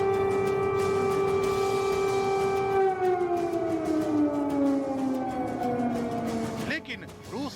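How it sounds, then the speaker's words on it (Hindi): An air raid siren wails across Ukraine, a loud sustained tone that holds steady and then slowly falls in pitch, with a voice talking over it. "यूक्रेन ने एयर सायरन से रूस के खिलाफ युद्ध का बिगुल फूंक दिया है।"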